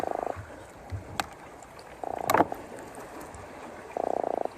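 A freshly caught croaker fish gives three short bursts of rapid, grunting croaks about two seconds apart. They sound close and moderately loud over faint background noise, with no speech.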